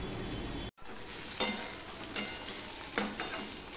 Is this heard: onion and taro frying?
yes